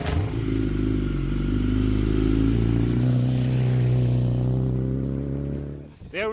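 Moto2 racing motorcycle engine revving hard after a bump start, a loud, close, sustained buzzing roar holding steady for several seconds before cutting off sharply near the end, with a brief rev after.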